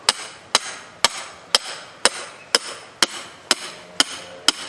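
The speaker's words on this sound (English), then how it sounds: "I'm driving this chain, this earth anchor, in the ground until that bottom swivel is above ground" Repeated hammer blows drive a chain-attached earth anchor into the ground while setting a coyote trap, ten sharp, evenly spaced strikes about half a second apart, close and loud with nothing else heard.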